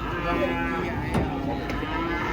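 A cow being unloaded from a truck lets out a drawn-out moo that wavers in pitch, close and fairly loud against a busy outdoor background.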